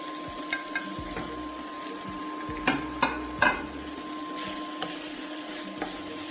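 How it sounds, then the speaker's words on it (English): Green beans being stirred into frying sambal goreng in a pan: a steady sizzle with scattered scraping clinks of a utensil, a few louder knocks midway, close and without talking. "And then we will add the green beans."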